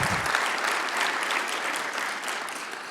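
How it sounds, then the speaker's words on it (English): Sustained applause from a seated audience at an aviation forum award presentation, dense and even, with no voices over it. "And one more round of applause for Paul."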